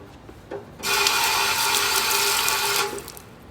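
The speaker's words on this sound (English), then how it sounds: "we can go over to the sink and we can plunge it into some water" Hot, freshly brazed metal held in needle-nose pliers is plunged into water in a sink, setting off a sudden loud hiss that lasts about two seconds and then cuts off, with a quiet room before and after.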